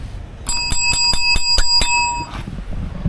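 A call bell at a guesthouse counter in Baguio City, rung about seven times in quick, even succession with a bright metallic ring, then left to fade in a quiet room.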